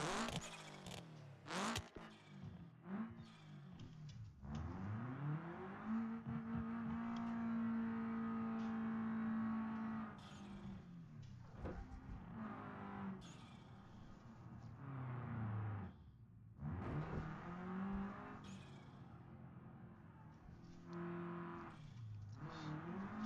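A car with a CVT transmission drives in the BeamNG 0.35 driving simulator. The engine hum holds steady as the car picks up speed, with a long even drone in the middle and a few sharper bursts and shifts around it.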